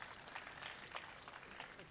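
Audience at a Hindi poetry recital (kavi sammelan) in Bahraich, faint, scattered clapping with a few louder claps, distant and soft throughout.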